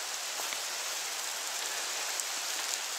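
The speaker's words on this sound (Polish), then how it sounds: "Deszcz pada" Steady rain falls through a forest during a mushroom-picking walk, a continuous dense hiss of drops on leaves with occasional louder individual drips, close and even throughout.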